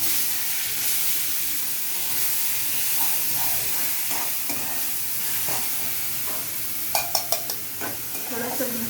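Ground paste tipped into a hot mustard-seed tempering for chutney, giving a steady, close, loud sizzle and hiss with stirring scrapes and a few sharp clatters near the end.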